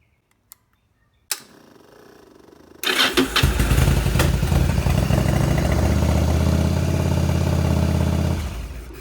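Yamaha V-Star 1100 motorcycle engine cranking and firing up after a few faint clicks, then settling into a loud, steady running rumble close by, cutting off near the end.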